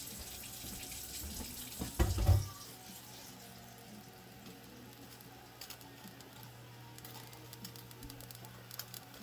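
Water pours briefly from a tap into vinegar brine in a well-used Dutch oven, a short splashing burst near the start, then a quiet, faint kitchen background with no talk.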